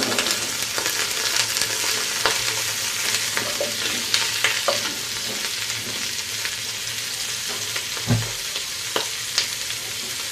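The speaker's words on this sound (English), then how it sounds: "We're going to saute for a little bit brown." Pork knuckle sautéing in a pan, a dense continuous sizzle and crackle of frying with occasional scraping stirs and utensil knocks, close up and steady, no one talking.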